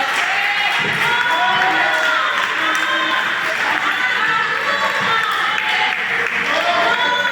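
A church congregation applauding and cheering during a sermon, a loud continuous mix of clapping, shouts and raised voices that carries on without letup.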